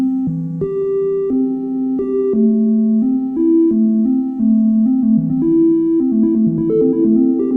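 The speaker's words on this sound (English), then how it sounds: "And you basically have an independent generative melody." A continuous modular synthesizer generative melody of smooth sustained tones stepping between pitches in a wandering pattern, washed in reverb, steady and fairly loud with no voices.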